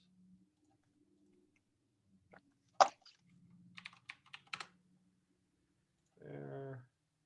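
A few sparse, quick keystrokes on a computer keyboard, close and fairly faint, scattered across a mostly quiet stretch with a brief low murmur near the end.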